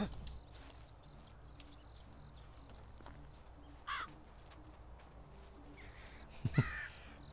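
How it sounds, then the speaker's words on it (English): Crows in Medieval Dynasty give two short harsh caws several seconds apart over a quiet forest background with faint footsteps. "Run for now, crows."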